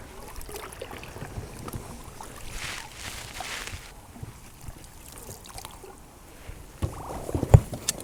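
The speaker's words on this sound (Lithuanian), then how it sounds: "Variklis apsivėlė, dabar tik irklais." Oars row a small fishing boat through a narrow, shallow, weedy canal after its outboard engine fouled, giving soft dips, splashes and dripping water over quiet outdoor ambience, with a sharper knock near the end.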